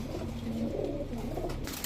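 Pigeon cooing nearby among a flock of fancy pigeons, a soft low call repeating twice within a couple of seconds, fairly faint with no voices over it.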